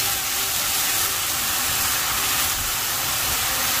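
Hot water poured into a pan of crisp-fried yakisoba noodles, producing a loud, steady hiss of sizzling and steam that fills the whole stretch with no talk.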